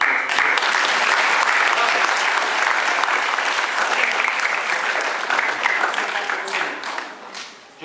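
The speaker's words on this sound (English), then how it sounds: "One more round of applause." A school audience at Chesterfield school claps loudly and continuously, a thick wash of many hands that holds steady and then tapers off at the very end.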